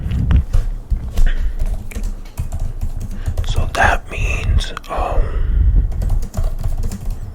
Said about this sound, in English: sorry, I had to type something.